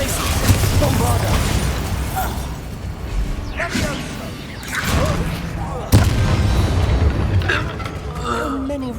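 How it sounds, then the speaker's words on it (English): Bombarda spell explosions in Hogwarts Legacy boom through dense combat noise and game music, with a sharp, loud blast standing out near the end and voices mixed in. "Bombarda."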